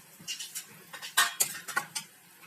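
A lid clatters onto a cooking pot holding mushrooms, a handful of sharp metallic clinks and knocks of a lid settling, scattered over a couple of seconds at close range with no talking.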